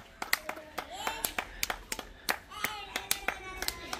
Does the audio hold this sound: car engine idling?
no